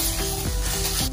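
Garlic and ginger sizzle in hot olive oil in a pan, a loud, steady crackling fry with no pauses over one short stretch.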